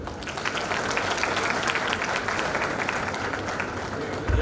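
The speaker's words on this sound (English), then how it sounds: "a huge round of applause for Ms. Sunita" Audience applause at an International Women's Day celebration held by an education society, a dense, steady wash of many hands clapping that fills the room and holds evenly throughout, with a brief louder swell at the very end.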